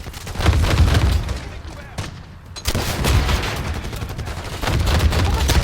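Video game Black Ops 6 campaign combat: heavy bursts of gunfire and a booming grenade explosion, loud and close, with a brief lull before rapid fire resumes and voices mixed underneath.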